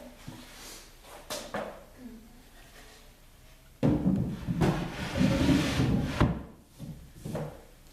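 Wooden drawers slide and knock into a painted, distressed antique-style furniture piece, giving woody rubbing and a few thuds that grow louder partway through, with faint background noise.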